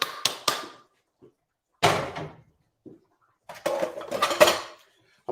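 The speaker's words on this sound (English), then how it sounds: "I'm gonna get my blender." Pots and pans clatter in a home kitchen while a blender is pulled out, with sharp metallic bursts and knocks in separate clusters and quiet gaps between them.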